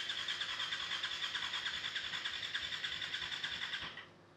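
A BMW G310R motorcycle on its stand cranking over with a steady, rapid whirring pulse from the starter that runs for about four seconds without firing, then cuts off, close and alone.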